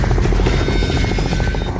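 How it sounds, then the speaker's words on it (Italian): A rescue helicopter flies during the 1997 volcanic eruption on Montserrat, its rotor chop loud, close and continuous, with rapid, even beats and a buzzing drone throughout, with no voices. "Alle 13:10 si dà avvio a un'intrepida operazione di salvataggio con l'elicottero."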